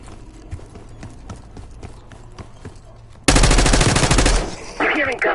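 Rapid popping shots clatter in a steady rhythm, then a loud burst of heavy automatic gunfire erupts abruptly and roars on, in the video game Call of Duty: Black Ops 6.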